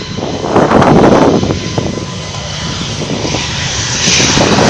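Airliner jet engines at an airport roar loudly and steadily nearby, a broad continuous rushing drone that swells slightly and then holds without pause.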